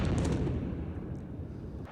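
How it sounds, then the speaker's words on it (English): Explosion of a burning Metrobus engulfed in flames inside a tunnel, a loud booming rumble that starts at full force and slowly decays over two seconds, with no voices. "you just heard that explosion while the bus was engulfed in flames"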